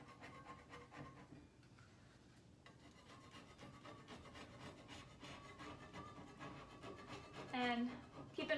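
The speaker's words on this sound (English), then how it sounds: "I will show you guys just how easily the paint will come off with the spackle knife" A spackle knife scrapes primer and chalk paint off an antique wooden furniture piece in steady, repeated rasping strokes, close and fairly quiet, with a brief louder scrape near the end.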